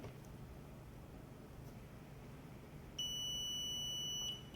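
A clamp meter on continuity test across a wire, giving one sustained electronic beep of about a second and a half after a stretch of faint room hiss, quiet and close with no talking.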